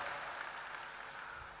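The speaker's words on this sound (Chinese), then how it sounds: "给自己一个掌声" An indoor audience at a leadership training gathering claps steadily, a dense even wash of applause throughout with no voices on top.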